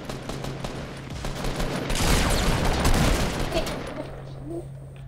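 Gunfire in Fortnite Battle Royale: a dense burst of rapid shots swells around the middle and fades off, sitting over game ambience and faint background voices.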